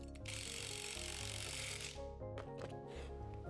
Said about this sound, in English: Use 9/16" tools to run down the nuts.